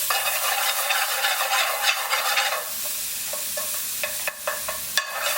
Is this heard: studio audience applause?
no